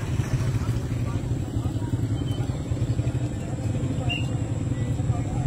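A motorcycle with a loud exhaust at a roadside police stop gives off a steady, close, low rumble for the whole stretch, with people talking over it.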